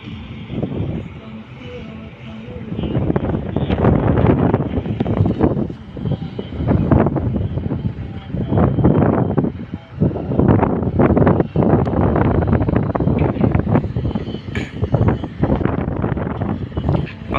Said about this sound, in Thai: ลมก็แรงเหลือเกินครับพี่น้อง